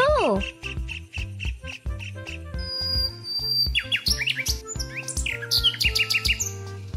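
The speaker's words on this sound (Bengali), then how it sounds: "তুমি কি পাখিদের কিচিরমিচির শুনতে পাচ্ছ?" Birds chirp in bright, repeated short tweets, a regular series of calls at first, then livelier overlapping trills and whistles, fairly close and clear throughout.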